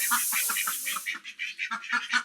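Farm ducks quack in a quick series of short, nasal calls, close by and moderately loud, with a steady hiss in the background during the first second.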